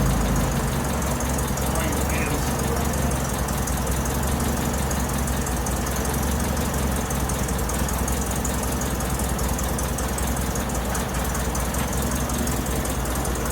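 A Toyota Tercel's 3A-C engine idles steadily right after its first start following reinstallation, a loud continuous low rumble with a slight knocking texture throughout, and people talk faintly over it.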